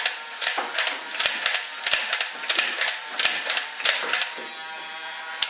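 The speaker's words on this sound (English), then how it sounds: "Turning it on, and we'll watch it shoot." Simple foam-dart Nerf gun firing repeatedly, a quick series of sharp mechanical clacks and pops over a steady whirring motor hum, close and fairly loud, with no talking.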